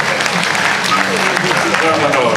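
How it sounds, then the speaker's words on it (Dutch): At a pony park show, a grandstand audience claps for a young pony foal, loud, dense applause with an announcer talking over it throughout. "Nou, geef even applaus, dat heeft hij nodig."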